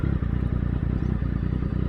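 A motorcycle engine idling close by, a loud, steady low-pitched throbbing pulse with a slight clattering edge and no pauses.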